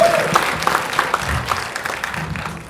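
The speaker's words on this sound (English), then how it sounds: "And also keep clapping for our wonderful volunteers." A film festival audience applauding sponsors and volunteers, with dense continuous clapping from a crowd at moderate loudness, thinning slightly toward the end.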